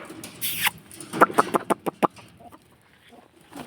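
Chickens clucking nearby in a quick run of short, sharp clucks as they are let out of a cattle shed, after a brief rustling burst, then quieter farmyard background.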